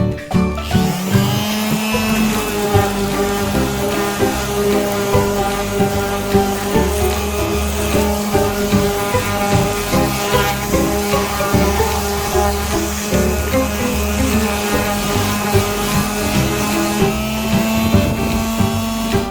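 An Einhell TC-BS 8038 belt sander with 40-grit paper grinds over teak to strip old stain, a loud, continuous buzzing roar with a faint pulsing rhythm.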